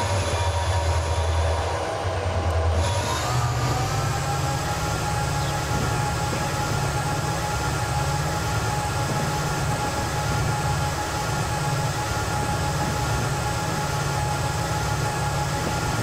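A freight train with three locomotives in Transport Fever rumbles loudly and continuously, a dense grinding roar with a steady high whine and a brief shift in tone early on.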